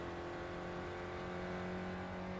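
A Mazda MX5 race car in iRacing at Brands Hatch accelerates, its engine holding a steady, fairly quiet droning whine with a constant pitch and no voices over it.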